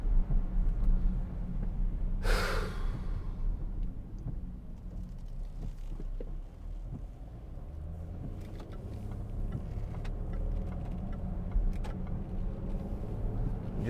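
Cabin of a 2013 Range Rover Vogue 3.0 TD V6 automatic 4WD, heavily loaded, accelerating on a dual carriageway: a steady low rumble of engine and road noise throughout, with a brief broadband whoosh early on and no talking.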